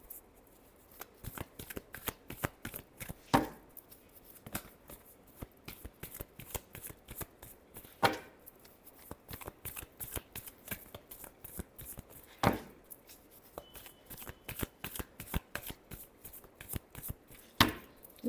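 Tarot cards being shuffled by hand: quiet, close riffling and slapping of cards in a steady rapid patter, with a sharper tap every few seconds as the deck is squared, continuing throughout.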